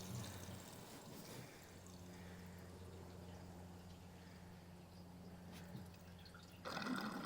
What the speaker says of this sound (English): we'll go ahead and throw a gallon of gas in her